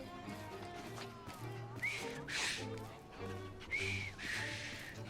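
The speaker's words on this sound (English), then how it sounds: "I've just learned to whistle" A character in Assassin's Creed Syndicate whistles two short rising tones over game music and ambient noise, the whistles bright and clear against the background.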